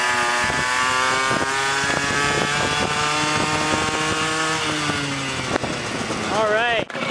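A 1983 Yamaha RX50 Special motorcycle engine revving up close, loud buzzing two-stroke tone climbing and holding steady with a brief dip near the end, as a person speaks over it.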